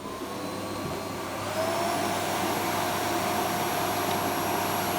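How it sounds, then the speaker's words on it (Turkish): A household vacuum cleaner runs with a steady, loud whooshing roar that rises in pitch and volume after a moment, then holds constant and close with no talking. "Çalışıyor şimdi süpürgeye başladı."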